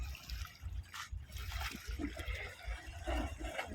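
A young elephant splashes while floating and playing in water, giving close, steady trickling and sloshing with a few brighter splashes and no speech.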